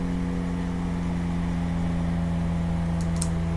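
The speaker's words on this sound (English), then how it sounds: "you can hear the engine rev up, and you can kind of hear a little bit more load put on it" Honda S2000 engine under load on a dyno, a steady, loud droning hum with a strong low tone held throughout and a brief higher click near the end.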